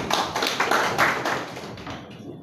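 An audience claps at an education project launch, a dense patter of many hands that is moderately loud at first and then fades over a couple of seconds, with no voices.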